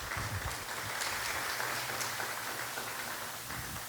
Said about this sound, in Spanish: Dale una ofrenda de palmas a Dios por eso.